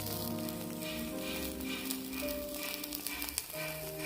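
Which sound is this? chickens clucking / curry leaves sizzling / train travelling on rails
curry leaves sizzling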